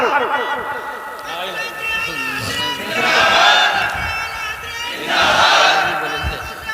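A large crowd at a religious speech gathering shouts in loud, rhythmic bursts of chanting slogans, with a lead voice calling out between the swelling group responses.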